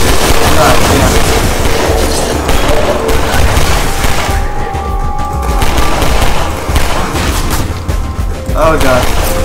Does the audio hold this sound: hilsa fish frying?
no